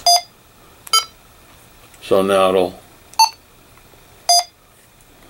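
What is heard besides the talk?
Kenwood TH-F6A handheld radio key beeps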